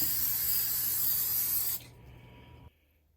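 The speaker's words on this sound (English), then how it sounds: "I got the gas tank area spray painted there with that rust paint." A steady hiss of a spray can spraying rust paint around a car's gas tank area for nearly two seconds, then stopping, leaving a fainter hiss that cuts off shortly after.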